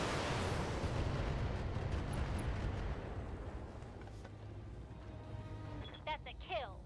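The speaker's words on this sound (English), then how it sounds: "Full salvo into that heavy laser turret" Heavy weapons fire from a BattleTech mech salvo pounds a heavy laser turret, a dense roar of blasts and booms sustained throughout, easing slightly midway, with brief chirpy electronic tones near the end and a voice talking over it.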